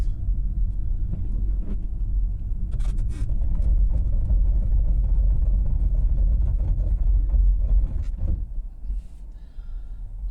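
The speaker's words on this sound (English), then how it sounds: "All that definitely sounds rough when you're braking. It's not a normal braking noise." Ford Mustang Mach-E AWD braking while driving downhill in snow, a loud continuous low rumble with road and wind noise and a few faint clicks, easing off toward the end.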